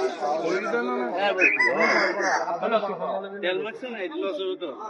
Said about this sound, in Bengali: এটি হচ্ছে মুরগি